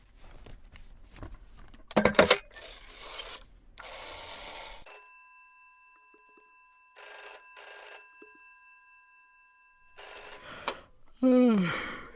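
A telephone rings in the police-management game This Is The Police, several loud, sustained electronic ring bursts separated by gaps, with brief clattering and handling noises and a short voice earlier on.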